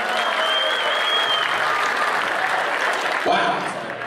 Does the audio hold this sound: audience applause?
yes